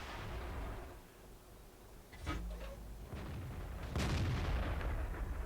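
British FV4202 tier 10 medium tank in World of Tanks firing its cannon: a sharp booming blast around the middle and a heavier, louder one later, each ringing out over low engine rumble.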